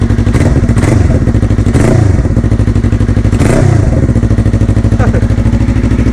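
Close, loud Yamaha YZF-R3 twin with an aftermarket exhaust, idling with a throbbing beat and blipped through several quick revs that swell and drop back, with some mechanical clatter.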